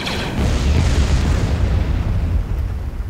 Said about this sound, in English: Commencing bombing run.